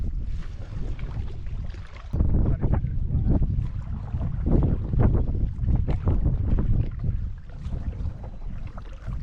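Wind gusting over a river while a canoe is paddled against it, a steady rushing roar buffeting the microphone, louder after the first couple of seconds, with faint knocks from the boat.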